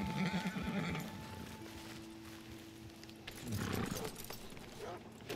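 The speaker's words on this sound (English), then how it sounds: "Horse is freaking going nuts." Horse neighing in the video game Red Dead Redemption 2, a whinny with hoof clip-clop over a busy game soundscape, with someone talking over parts of it.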